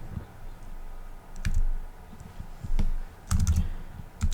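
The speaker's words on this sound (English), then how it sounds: "we could type ipconfig and then" A computer keyboard clicks as a short command is entered on a Windows 11 PC, with a few scattered keystrokes and then a quick cluster of taps. The keys sound close and crisp, with no voice.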